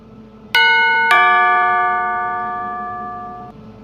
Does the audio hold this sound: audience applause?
no